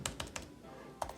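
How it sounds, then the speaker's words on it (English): Typing on a Logitech Folio Touch tablet keyboard: a few soft, close key clicks in a brief burst, a pause, then another pair of keystrokes, quiet and alone. "Let's try some typing."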